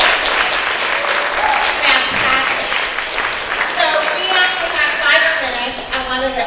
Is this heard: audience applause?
yes